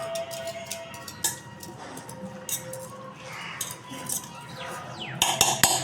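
Spoon stirring hot and spicy K-Bomb ramen premix in a bowl, with repeated metallic clinks and scrapes against the bowl at close range over a steady background.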